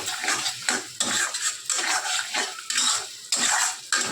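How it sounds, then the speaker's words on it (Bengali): Masala being stirred and fried in a pan for a rohu fish curry with garlic, rhythmic spatula scrapes and clinks against metal repeating about twice a second over a loud continuous sizzle, close up, with no voices. "খুব ভালো করে এটাকে কিন্তু আমি কষে নিচ্ছি"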